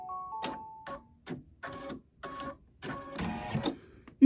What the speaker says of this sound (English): we're going to do the nose next. So we're going to stitch.